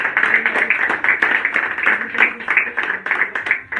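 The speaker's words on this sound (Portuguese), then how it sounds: "aplauda Ele um pouco mais" A church congregation claps during worship, rhythmic applause pulsing steadily throughout, with voices mixed in over the clapping.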